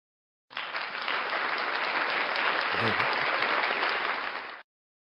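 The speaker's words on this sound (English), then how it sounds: "another round of applause" Full, even applause for a prize winner on a morning show begins abruptly, sustains at an even level for around four seconds and cuts off sharply.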